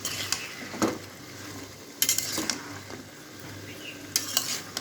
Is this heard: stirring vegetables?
yes